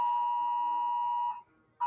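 A phone's emergency alert sounds a loud, sustained steady tone for over a second, pauses briefly, then starts again, alone with no talk over it.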